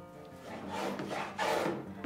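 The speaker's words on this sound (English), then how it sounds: "Then I'm fairing the structure." Sanding or planing along the wooden structure of a canoe being faired, a steady rasping scrape of tool on wood that swells and eases in repeated strokes, close and fairly loud with no voices.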